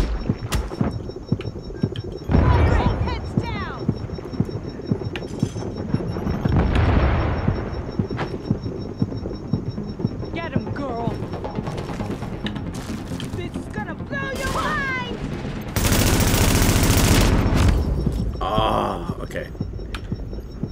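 Gunfire and heavy booms in the shooter Tom Clancy's The Division, with scattered shots, a few deep explosive thuds and a long loud burst near the end, while voices talk over the action.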